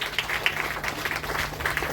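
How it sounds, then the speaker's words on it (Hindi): Audience at a livestock-worker refresher training programme in Patna clapping, a short, continuous patter of applause of moderate loudness. "एक बार जोरदार तालियों के साथ आप अपनी सखियों का मनोबल बढ़ाएं।"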